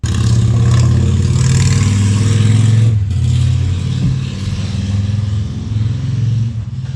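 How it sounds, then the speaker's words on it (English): Motorcycles passing by outside with a loud, sustained low engine drone that revs and rumbles throughout, dipping briefly in the middle before swelling again. "Damn kids and their motorcycles."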